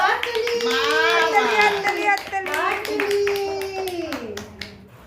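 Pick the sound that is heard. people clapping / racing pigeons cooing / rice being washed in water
people clapping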